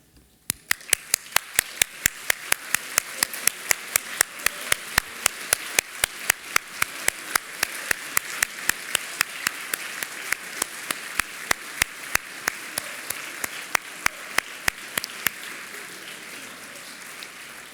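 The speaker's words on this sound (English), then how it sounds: "I invite you to stand up one more time and applaud those people and yourselves." Graduates stand and applaud at a business school commencement ceremony. Sustained crowd clapping runs for most of the stretch, with one close clapper's sharp, evenly spaced claps standing out before the applause thins near the end.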